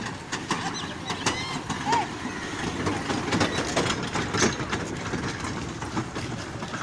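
A small amusement train ride at a beach during a festival rattles with repeated clacking and clicks over a steady outdoor background, with people talking throughout.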